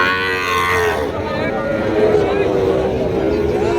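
Sahiwal bulls and cattle lowing at a busy livestock market, a drawn-out moo rising over steady crowd babble and nearby voices.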